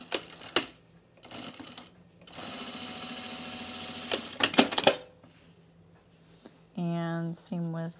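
A sewing machine stitching the center back seam of Peaks and Valley pants runs in a sustained rattling burst, preceded by a few sharp clicks and followed by a short spoken comment.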